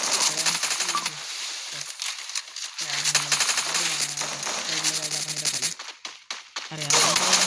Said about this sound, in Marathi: फायरिंग चालू आहे.